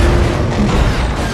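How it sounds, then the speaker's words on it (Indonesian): A car slamming into an oil tanker truck that explodes, a loud dense rumbling blast with crashing debris filling the whole moment, no voices. "Mobil itu menabrak truk tangki minyak yang membuatnya meledak."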